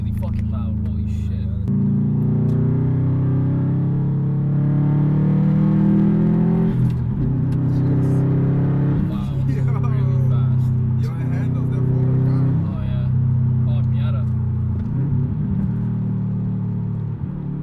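A loud Stage 2+ tuned 2016 Subaru WRX STI engine rumbles and revs up in repeated rising pulls while driving, a deep droning exhaust filling the clip, with voices faintly underneath.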